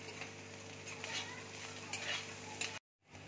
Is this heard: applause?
no